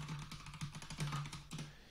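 Keys on a computer keyboard are tapped in a quick, uneven run of light clicks, close and fairly soft, typing out a to-do list.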